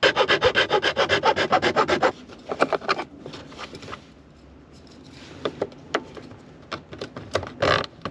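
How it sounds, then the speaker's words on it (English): A hand file rasps back and forth on a truck part in a close, steady run of about fifteen quick strokes, then slower scattered scrapes follow. "Let's have a go at filing it."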